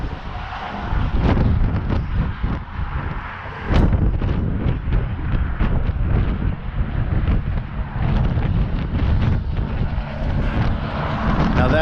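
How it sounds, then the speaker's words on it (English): Strong wind at Hoover Dam buffets the microphone throughout, a constant low roaring rumble with gusty bursts, loud and close. "It's really windy."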